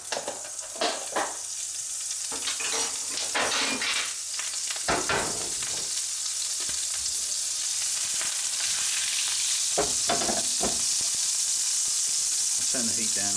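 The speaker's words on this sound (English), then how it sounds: "I've got a hot pan already on with a little bit of oil, and I'm going to add some butter." Butter sizzling in a hot pan with a little oil, a steady close frying hiss with scattered crackles and pops, louder bursts near the start and again toward the end, no voices.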